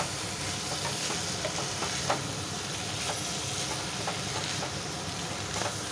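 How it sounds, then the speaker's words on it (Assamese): Food fries in a small kadai with a loud, continuous sizzle, broken by occasional scrapes and knocks of stirring, close up and with no talking. "এয়া এইখিনি অলপ ফ্ৰাই হ'ব দিছোঁ।"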